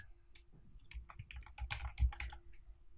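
Rapid keystrokes on a computer keyboard in a university lab, a close, uneven run of crisp clicks with a faint steady hum behind and no talk.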